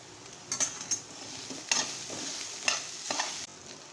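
Coconut, garlic and ginger sauté in a pan for misal, with a soft continuous sizzle broken by several sharp scraping strokes of a spatula stirring. The sound is near and there is no talk.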